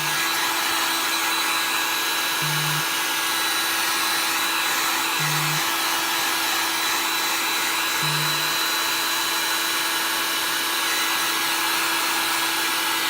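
A dryer blows hot air to dry chalk color on a pumpkin, a loud continuous roaring hiss with a steady whine, close and unbroken throughout, with three short low hums at regular intervals and no speech.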